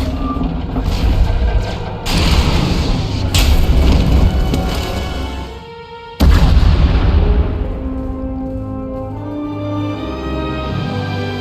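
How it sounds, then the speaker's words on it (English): Heavy booming explosions in Star Wars: The Old Republic – Knights of the Eternal Throne rumble in succession, loud and deep, with crashing debris of a collapsing tunnel and a long fading roar after a sudden blast. "We heard explosions. The tunnel collapsed."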